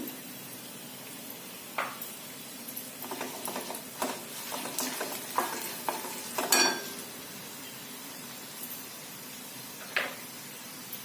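A tempering for dal khichdi with turmeric and asafoetida sautéed in a pan, giving a faint, quiet sizzle under scattered light stirring scrapes and occasional clinks of the spoon.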